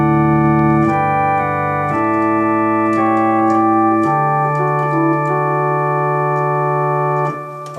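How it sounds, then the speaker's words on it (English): A Hammond-style clonewheel organ set to a principal drawbar registration plays a slow sequence of sustained chords, each change clearly stepped, steady and full with no speech over it. "Here's a sound called principal."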